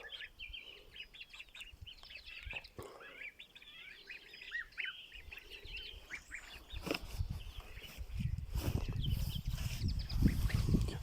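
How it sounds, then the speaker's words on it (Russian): Small farmyard chicks cheeping in a series of thin, high peeps, moderately close and fairly soft, with rustling and louder low-pitched movement noise building toward the end. "цыплята."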